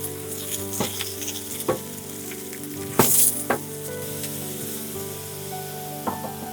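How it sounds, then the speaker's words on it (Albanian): Oil sizzles steadily around eggplant slices frying in a pan, broken by a few sharp clatters and scrapes of a utensil. "Po t'i skuqesh një fetat e patlıgjani"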